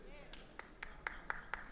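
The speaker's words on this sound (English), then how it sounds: "Yeah, clap for that." Audience clapping at a church general conference: a short, sparse patter of a few claps in an even rhythm, faint and distant under a speaking voice.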